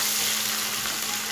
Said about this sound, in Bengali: এই পেঁয়াজটাকে খুব লাল করে ভেজে নিতে হবে।